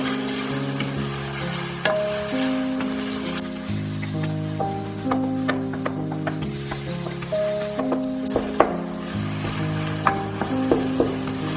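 Minced meat frying in a pan with fresh ginger and garlic for a Chinese-style eggplant dish, a steady close sizzle with occasional stirring clicks and scrapes, no talking.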